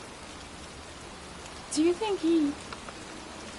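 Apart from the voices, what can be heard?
rain falling in a video game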